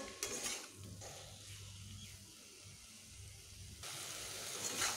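Bitter gourd with salt is stirred and sautéed in a pan, with soft scraping and clinks of a utensil against the pan over a faint hiss, close and quiet.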